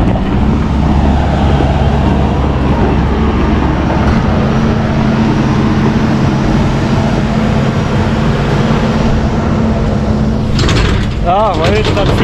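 A manure spreader's floor conveyor runs steadily on a farm, a continuous mechanical rumble and rattle of chains and gears with low engine drone, ending in a few squeaky ratcheting sounds near the close.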